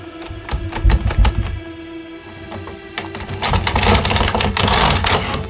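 A 1990s knitting machine works yarn through its needles with rapid mechanical clacks and rattles, a steady hum beneath, growing louder and busier toward the end as the carriage keeps moving.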